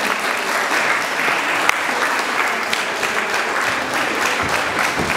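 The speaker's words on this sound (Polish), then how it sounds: "Myślę, że Państwo mogą zebrać moc swoją oklaskami." Sustained audience applause at a dance tournament, a dense, even roar of many hands clapping that holds steady at full strength throughout without talk over it.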